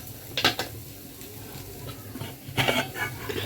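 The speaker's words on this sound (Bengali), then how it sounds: "আর এখন আলু ভাজা করছি" Potatoes frying in a home kitchen pan, stirred with a utensil: soft background sizzle broken by two bursts of louder metallic scraping and clatter, one near the start and a longer one toward the end, with no talking.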